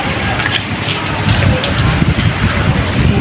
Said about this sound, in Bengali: বৃষ্টি পড়তেছে ছাদে।